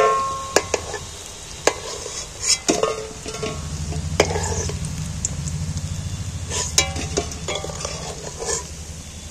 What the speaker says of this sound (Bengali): তেল থেকে তুলে নিচ্ছি।